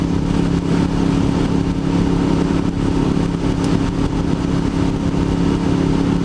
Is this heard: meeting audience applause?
no